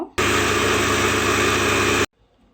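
An electric blender grinds raw semolina in one loud, steady whirring burst of about two seconds that starts and stops abruptly, close up.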